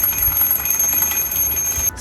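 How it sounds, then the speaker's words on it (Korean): A homemade smart alarm device rings steadily with a high, continuous electronic tone for about two seconds before cutting off abruptly, loud and alone without speech. "스마트 알람 기기를 만들어 봤습니다."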